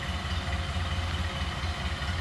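A 1930 Ford Model A Tudor sedan's inline four-cylinder engine idles steadily, heard from behind the car as a loud, even low rumble with a constant throb and no talk over it.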